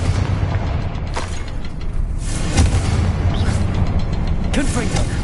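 Confringo fire spell explosions in Hogwarts Legacy burst repeatedly, several sharp booming blasts spaced a second or so apart over a steady rumbling game background, with a voice speaking between them.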